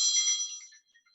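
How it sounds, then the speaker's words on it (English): Phone ringtone chiming loudly and close for under a second, then trailing off into faint scattered tones; no talking over it. "who the heck is calling me now?"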